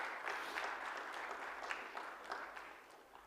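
An audience at a sports conclave in Kolkata applauds for a cricket hero, a soft, fairly distant patter of many hands clapping steadily for a few seconds.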